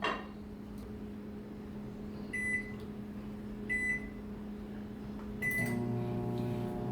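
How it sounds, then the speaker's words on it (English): A microwave oven hums steadily at close range, its low drone broken by a few short electronic beeps, with a slight shift in the hum near the end. "I think we need more time in the microwave"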